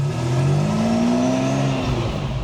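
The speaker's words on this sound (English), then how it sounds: "we're gonna jump on Marina Mile with this beautiful Testarossa. We're gonna go through all the gears" A 1988 Ferrari Testarossa's engine revving loudly and steadily up through a gear, a smooth rising mechanical roar close to the car with no talk.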